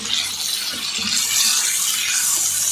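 Water poured into fried masala in a cooking pot makes a steady, loud hissing gush that swells slightly toward the end, close by and with no one speaking.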